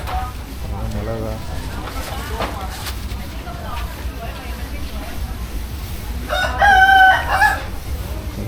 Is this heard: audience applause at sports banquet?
no